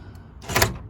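A freshly lubricated door lock on a Land Rover Discovery 200tdi clunks once, a short close mechanical thunk with a brief rattle.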